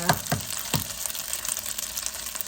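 Eggs drop into a hot pan for Thai pad see ew, setting off a brief burst of sizzling and spattering that settles into a steady fry.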